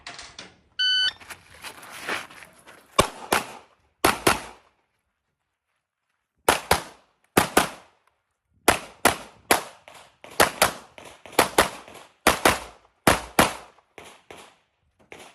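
A shot timer beeps, then a rapid string of sharp pistol shots rings out in quick bursts with short pauses, as in USPSA competitive pistol shooting outdoors.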